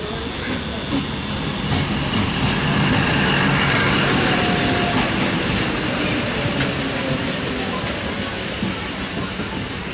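DEMU passenger train 07526 runs through New Mal Junction in North Bengal, a loud continuous rumble of wheels and carriages with rhythmic clatter and faint high squeals, heard close by throughout.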